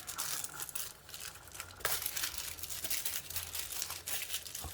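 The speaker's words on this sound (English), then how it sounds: "Crumpling it." Paper or similar material crumpled and crushed by hand into a log shape, close up, with irregular crinkling bursts and rustles throughout and no talking.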